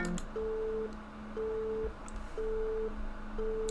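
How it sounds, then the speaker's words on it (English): A steady electronic phone ringing tone in a video game beeps in regular repeated pulses, about one per second, over a faint low hum. "What's with the ringing noise?"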